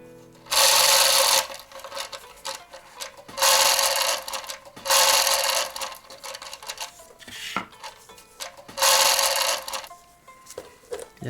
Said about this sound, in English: Undo the knots in the chains so we can pull them through.